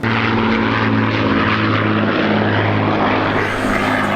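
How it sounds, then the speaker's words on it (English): A loud, steady roar of a Lancaster bomber's piston engines and propellers droning close overhead at an airshow, with a constant low throb throughout. "That is the sound of a Lancaster bomber."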